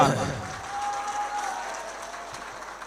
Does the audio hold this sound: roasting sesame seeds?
no